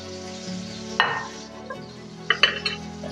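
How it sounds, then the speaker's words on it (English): Onions browning in a pan give a soft, steady sizzle with occasional stirring scrapes and a few sharp clinks of a utensil against the pot, close and fairly quiet. "we're going to cook these onions until they're brown"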